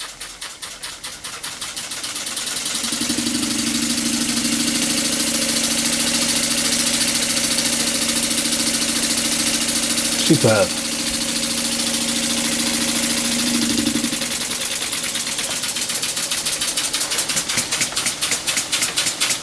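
A lovely model steam engine runs steadily with a close, even mechanical hum and faint rhythmic beat for about eleven seconds, then stops. A brief spoken word comes near the end.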